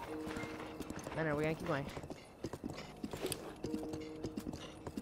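Horse hooves clip-clop steadily in the video game Zelda: Breath of the Wild, with a whinny early on, while a player talks over the gameplay.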